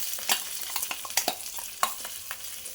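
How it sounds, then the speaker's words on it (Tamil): Ground chana dal frying in sesame oil in a kadai, with a soft steady sizzle broken by short scraping strokes as it is stirred, close and moderately loud. "இப்போ நம்ம அரைச்சி வச்சுருக்க கடலைப்பருப்பை இந்த எண்ணெயில் போட்டு நல்லா வேக வச்சு எடுத்துடணும்."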